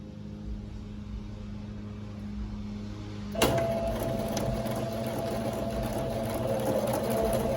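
A sewing machine runs steadily, stitching through four layers of fabric for a diaper cover; a continuous close mechanical whir kicks in partway through and holds without pause.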